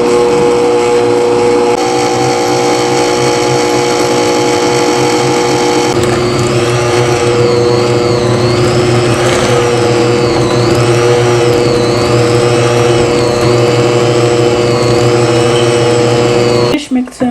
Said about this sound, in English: Finish mixing my batter